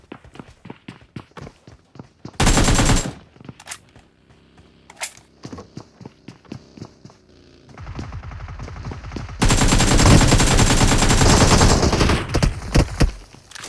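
Bursts of automatic gunfire in a PUBG match on the Miramar desert map, with rapid close volleys, single shots and footsteps between them, growing into long loud sustained firing near the end.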